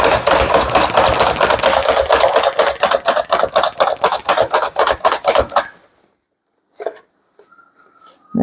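An OXO Good Grips chopper rapidly chops a mushy tomato, a close run of quick rhythmic plunging clacks for several seconds, then silence with a few faint clicks.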